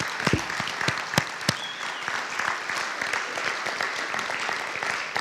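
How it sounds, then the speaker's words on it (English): Audience applause at a school district state-of-the-district event, a sustained crowd clapping with several sharp, close individual claps standing out near the start, moderately loud and continuous. "please join me in standing up and giving each of yourselves a round of applause for supporting the school district."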